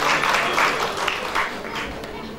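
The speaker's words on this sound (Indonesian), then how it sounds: "Tepuk tangan dulu untuk Yesus." A church congregation claps during a sermon, a dense, steady patter of hands with rhythmic pulses, fairly close and loud, with voices mixed in.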